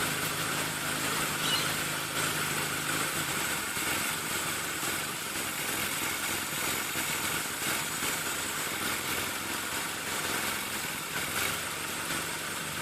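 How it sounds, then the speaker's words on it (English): A carburetted engine idles steadily at about 800 RPM, a continuous rough rumble with a slight unevenness, heard alone without talking. "you can see the engine shaking a bit more, and it doesn't sound as good"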